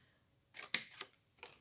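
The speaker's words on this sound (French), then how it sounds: "Donc, on va couper ici" Scissors snip through a thin paper strip in a few short, close cuts, one sharp crisp snip followed by lighter clicks and rustles, with no talking.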